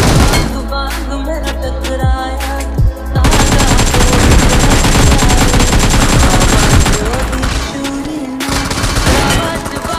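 Loud rapid gunfire from the mobile battle royale game BGMI fills the clip in dense automatic bursts, layered over background music with a brief lull near three seconds.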